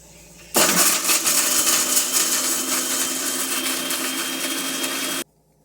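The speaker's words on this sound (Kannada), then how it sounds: "ಹಾಕ್ಕೊಂಡಿರೋ ಇಂಗ್ರೀಡಿಯೆಂಟ್ಸ್ನೆಲ್ಲ ಒಂದು ಸ್ವಲ್ಪ ಮಿಕ್ಸರ್ ಮಾಡಿಕೊಡೋಣ." A kitchen mixer grinder blends coconut, onion and garlic for chicken sambar, starting abruptly with a loud steady whirring roar that runs for about five seconds and then cuts off.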